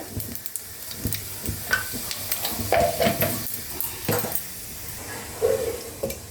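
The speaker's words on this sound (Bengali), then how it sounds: "আমি এখানে 2টো তেজপাতা দেবো, একটু জিরে ফোড়ন দেবো, সাদা জিরে।" Two bay leaves and white cumin seeds tempering in hot oil in a kadai, a soft crackling sizzle with a few clinks and scrapes of a utensil against the pan, close and moderately quiet, no voices.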